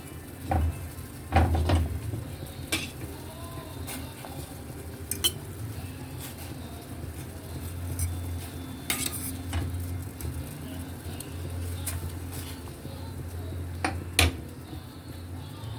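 Grilled milkfish goes into a pot with onion and chili amid scattered metallic clinks, utensil scrapes and a faint simmering sizzle, close and fairly quiet.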